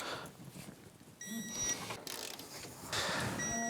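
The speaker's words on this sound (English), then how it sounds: "I'm going to bring these in and then torque them down to 30 foot-pounds" A wrench tightens bolts on the shock mount of a Polaris Ranger 800 Crew UTV during a ball joint replacement. Quiet metallic ratcheting clicks and clanks come in short bursts at close range, with no talking.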